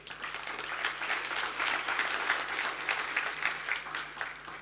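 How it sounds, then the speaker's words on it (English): An audience at a financial technology conference gives a steady round of applause, dense clapping that holds for several seconds and swells slightly in the middle. "please give them a round of applause"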